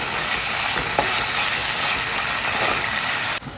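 Green chillies and curry leaves fry in hot oil, a loud, steady sizzling hiss with faint stirring scrapes, ending with a sudden drop in level.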